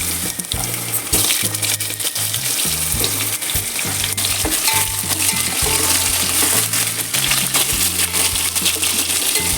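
Pieces of bottle gourd frying in a pan of hot oil with mustard seeds and dried red chillies, a loud steady sizzle broken by repeated clinks and stirring strokes of a utensil against the pan.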